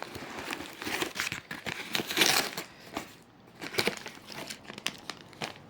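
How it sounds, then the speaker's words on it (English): Cardboard packaging of an African food delivery box being torn open by hand, giving repeated crinkling, ripping bursts at close range with a longer loud tear midway and brief pauses between pulls. "so I'm just going to tear it off by the torn space"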